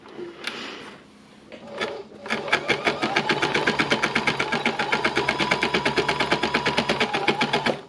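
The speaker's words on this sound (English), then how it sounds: "This is what I love about my embellishing machine, is it makes life so easy." An embellishing machine runs steadily and loud, its needles punching in a fast, even rhythmic chatter after a couple of brief handling knocks at the start.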